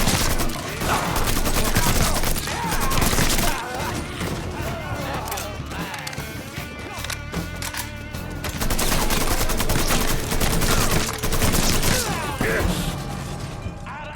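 Dense, sustained gunfire from a shootout in the video game Mafia 3, heavy bursts of automatic fire and single shots piling up with almost no pause, loud and close, with shouted character voices mixed into the battle.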